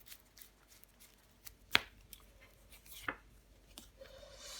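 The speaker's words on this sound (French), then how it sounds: "Je vais recouvrir le 7 de Pentacles." A tarot card, the Seven of Pentacles, laid over another card on a table: a single soft papery slap and slide up close, followed by a quieter card rustle and faint handling noises.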